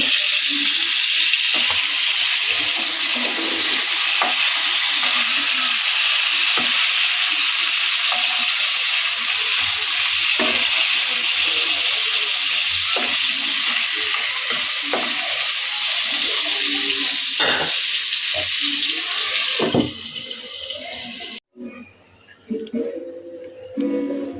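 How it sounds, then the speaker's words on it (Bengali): Fish fries in a pan in a home kitchen, a loud continuous sizzle with faint clicks and scraping underneath, fading to quieter background noise near the end. "মাছটা ভাইজা নিতেছি"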